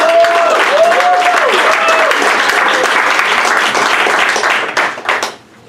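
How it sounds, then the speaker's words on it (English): A crowd at a startup graduation founder pitch event gives loud, sustained applause, a dense roar of clapping with a few voices and whoops over it, fading out near the end. "let's do a big round of applause for Bluezup"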